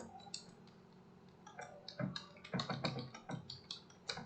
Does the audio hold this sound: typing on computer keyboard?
yes